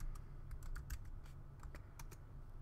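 Close, quiet key clicks of a password being typed on a Mac keyboard, a quick uneven run of separate taps spread over a few seconds, with no voices.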